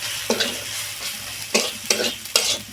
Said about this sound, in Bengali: এখন এই মশলাটা আরো কিছুক্ষণ এইভাবে কষিয়ে নেব।